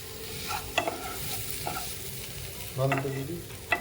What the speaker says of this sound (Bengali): নুন হলুদের গুঁড়ো লঙ্কার গুঁড়ো দিয়ে মশলাটা কষিয়ে নেব ভালোভাবে